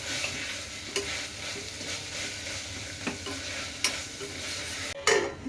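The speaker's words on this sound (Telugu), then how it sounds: "టమాటా ప్యూరీ వేసుకొని బాగా పచ్చివాసన పోయేంత వరకు మనం మిక్స్ చేద్దాం" Tomato puree with drumsticks cooks for a drumstick biryani, sizzling steadily in a pan while a spoon stirs in sparse, scraping strokes. A sharp clatter of metal comes near the end, and no one speaks.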